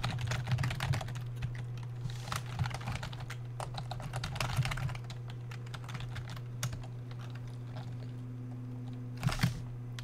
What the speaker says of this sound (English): I give up on typing.